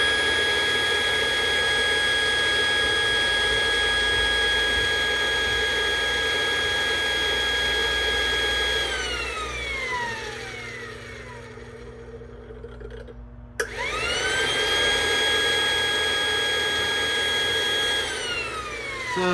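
An electric fuel-pump motor runs with no load and no fuel pressure, a loud steady whine that sags and drops off partway through, then cuts back in abruptly at full pitch and keeps droning.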